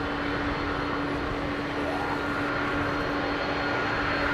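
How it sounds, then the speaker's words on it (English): An Airbus A380 on its takeoff roll down runway 27R at London Heathrow Airport gives a steady, loud, continuous jet engine roar with a faint sustained hum underneath, unbroken for the whole stretch. "A380 takeoff roll always looks so slow"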